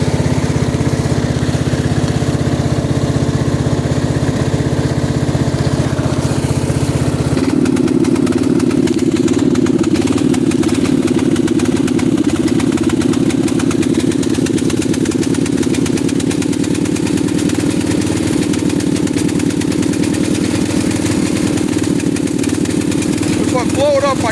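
A riding lawn mower engine stuck in first gear runs continuously up close, a loud steady mid-pitched drone that deepens and grows rougher partway through, with no pauses.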